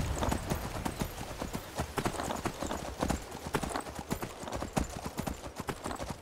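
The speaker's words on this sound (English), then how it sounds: "this time with horses" Horse hooves clip-clop in a quick, steady rhythm on a hard road in Skyrim Special Edition, with several horses trotting together close by.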